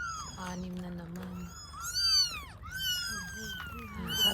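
A litter of six newborn kittens meowing, high thin cries overlapping and rising and falling in a busy chorus, close by, with soft human voices mixed in underneath.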